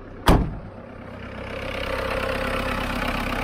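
A DAF truck idles while warming up, heard as a steady low diesel rumble with a faint hum above it. It starts after a short sharp click and stays even and close, with no speech.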